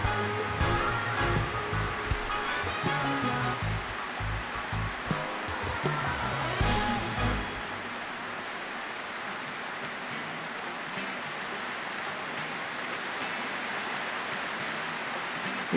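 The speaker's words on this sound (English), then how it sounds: "talk about rain, it's teeming down outside here at the moment." Heavy rain teems down on a veranda outside an office, a dense continuous hiss with louder, rougher patter in the first half that settles into a steady, even roar for the rest.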